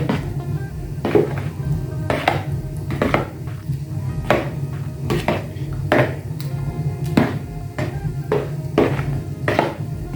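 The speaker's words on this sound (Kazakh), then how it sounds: "Жақсылап қасықпен араластырып аламыз." A spoon stirs a sour cream mixture for a sour cream pie, giving repeated clinks and scrapes against the bowl in an irregular rhythm, close and fairly loud over a low hum.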